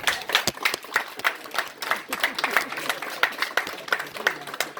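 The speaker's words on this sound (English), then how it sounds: "Can I get a hand clap from over there?" An audience claps hands in a steady burst of applause at a 2021 Old Settlers Remembered community gathering, many hands striking together in a dense, continuous patter at moderate loudness with no break.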